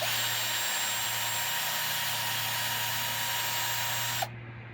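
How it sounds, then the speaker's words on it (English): A power tool whines steadily at high pitch for about four seconds, then cuts off abruptly, leaving a quieter hum. "if you've got a power tool, which you need to have"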